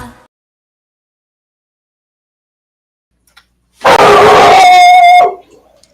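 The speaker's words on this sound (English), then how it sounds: "I hear your baby barking, James." A dog lets out a loud, drawn-out howl with a few barks, close by, rising suddenly after near silence and lasting about a second and a half before fading.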